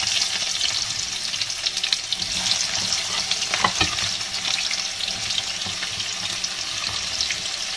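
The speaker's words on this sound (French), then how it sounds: "Donc là, je vais mettre les oignons." Onions sizzle steadily in a pan while a Ghanaian black pepper sauce (shitor) is being made, with a dense, even crackle throughout and a brief stir or clatter near the middle. No one speaks.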